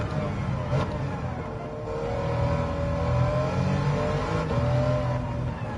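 BMW M3 fitted with a Z4 race engine in Gran Turismo 7, revving and pulling steadily in a sustained, fairly loud engine drone with rising and falling pitch, no talk.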